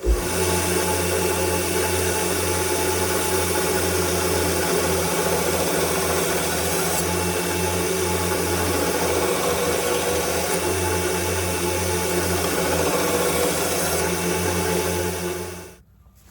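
A belt grinder runs continuously at 120 grit while knife bevels are ground, a loud, steady motor hum with a high abrasive hiss that holds for about fifteen seconds before winding down and stopping.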